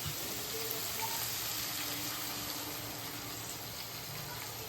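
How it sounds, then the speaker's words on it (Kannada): Water is poured into a spicy crab pepper masala in a cooking pot, giving a steady gushing wash with a faint sizzle beneath, continuous and close. "ಅದಕ್ಕೇ ಇವಾಗ ವಾಟರ್ ಆ್ಯಡ್ ಮಾಡ್ಕೊಳ್ಳಿ."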